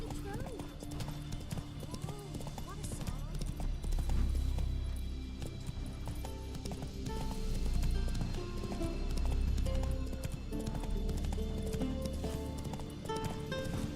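Geralt's horse Roach gallops in The Witcher 3, a steady, fast clip-clop of hooves running throughout over a bed of game music, with voices talking intermittently.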